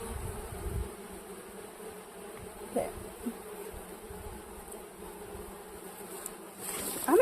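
Bees buzzing around a frame pulled from a beehive, a steady close insect drone throughout with a few brief louder bumps and a short spoken word near the end.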